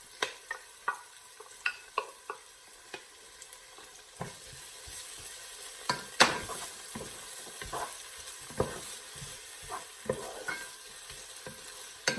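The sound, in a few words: onion and garlic frying in a pan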